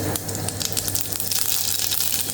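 Cumin seeds crackle and sizzle in hot oil for a tempering in a home kitchen, making a steady, close, hissing spatter with no talk.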